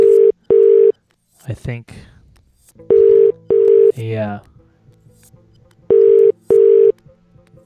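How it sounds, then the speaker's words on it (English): Telephone ringback tone sounding in paired bursts three times, heard over the line during a call-in talk show, with brief speech in the gaps between rings. "Yeah, it's still ringing."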